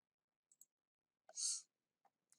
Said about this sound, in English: and you just keep clicking.